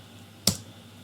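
A single sharp keystroke clicks once on a computer keyboard, close and brief, against a quiet room.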